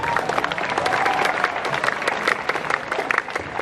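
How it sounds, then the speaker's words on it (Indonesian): School assembly applause for a class of students at a Jakarta high school flag ceremony, a lively, dense round of clapping from a large group lasting a few seconds. "Boleh tepuk tangan untuk kelas 12E."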